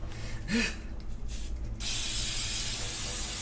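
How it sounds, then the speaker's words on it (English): A spray can hisses in a kitchen while cookie butter blondies are baked, one long steady burst following a short quieter spritz and some faint handling noise. "it takes the spray."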